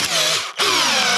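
Power drill boring with fresh new bits during a storeroom rebuild: a loud, steady high whine that cuts out briefly partway through, then resumes at full speed.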